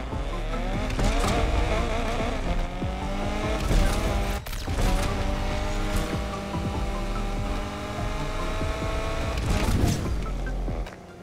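A Lotus race car roars through a Need for Speed Unbound race, a loud continuous engine drone with shifting pitch and occasional tire squeals, steady throughout with no talking.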